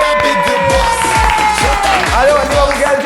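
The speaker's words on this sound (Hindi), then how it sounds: "तो जोरदार ताली हो जाए" Studio audience clapping and cheering for a contestant on a reality show, loud and dense with a bright music tone and rhythmic thumps running through it.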